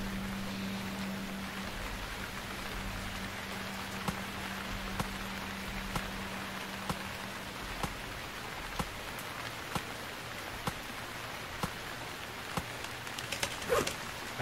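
Rain in the survival game Stranded Deep, a steady hiss of rainfall on surfaces, with a low droning hum and sharp regular clicks or taps recurring about once a second.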